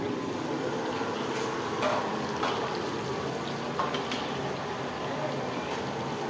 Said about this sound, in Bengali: চিকেনগুলো ফ্রাই হচ্ছে